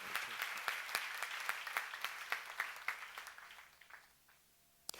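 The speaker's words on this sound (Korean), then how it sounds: "박수 한번 더 주세요." Congregation applause at a church seminar during a Psalms sermon, sharp rhythmic claps at fairly low level that thin out and fade near the end, followed by one final loud clap.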